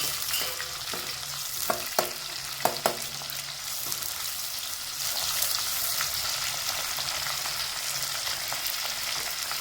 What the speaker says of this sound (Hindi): हल्का सा जो है हम इसमें इसे फ्राई कर लेंगे लेमन को